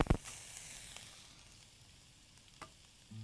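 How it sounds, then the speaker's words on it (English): Food sizzles steadily in a hot pan, with a few sharp clacks of a utensil near the start and again toward the end. "Ah, nice hot pan. The noise I like to hear."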